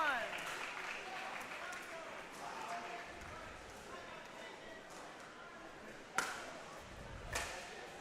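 Applause rolls steadily through a pickleball match arena, a fairly quiet, even patter of clapping. Two sharp paddle or ball hits ring out near the end.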